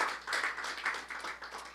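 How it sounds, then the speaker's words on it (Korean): Lecture-hall audience applauding a professor with steady, moderately quiet clapping that continues evenly throughout the short stretch, with no talking over it. "박수 한번 주십시오"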